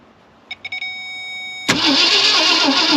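A rusty 1965 Ford Thunderbird under restoration: a few short chime beeps, then the engine abruptly cranks and catches with a loud, close roar that keeps running steadily to the end.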